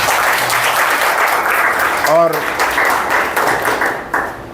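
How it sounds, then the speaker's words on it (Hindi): An audience applauds steadily for an educational institute at a ceremony, loud sustained clapping with a brief spoken word partway through. "मैं चाहूँगा कि एक बार एमसीआई संस्थान के लिए भी तालियां बजाइए"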